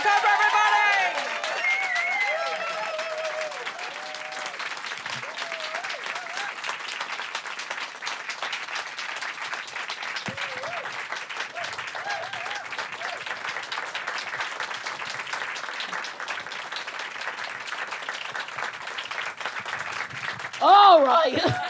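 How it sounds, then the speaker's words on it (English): Live audience applause at a comedy podcast taping, moderate and sustained behind a speaking voice, with a louder swell near the end. "Stop clapping."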